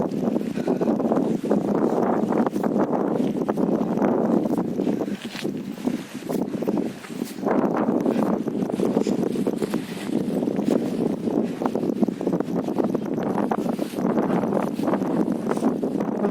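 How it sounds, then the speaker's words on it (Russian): Strong, cold wind gusts outdoors on a sunny day along a lane between a house and a shop, a continuous loud rushing roar with buffeting against the microphone, no voices. "Вроде на улице солнышко светит, но такой сильный ветер, мы замерзли."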